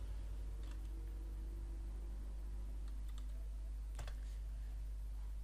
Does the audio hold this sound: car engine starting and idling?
no